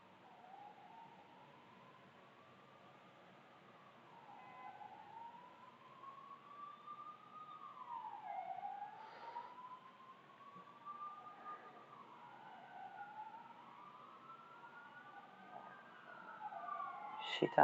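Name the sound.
ambulance sirens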